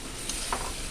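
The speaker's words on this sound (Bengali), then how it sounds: "দিয়ে বেগুনটা একটু কষিয়ে নেব।" Fried eggplant being stirred into a coconut milk masala with turmeric, a brief close sizzle with a couple of soft scraping stirs over a steady frying hiss.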